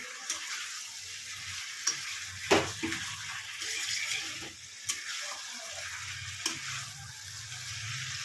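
Fish bones frying in oil in a pan, a moderate steady sizzle with a few sharp clacks and stirring knocks spaced through it.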